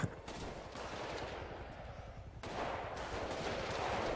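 Rapid bursts of automatic gunfire during a bank shootout inside Paleto Bank in GTA, a dense, sustained crackle of overlapping shots, fairly close and loud throughout, with no clear voices over it.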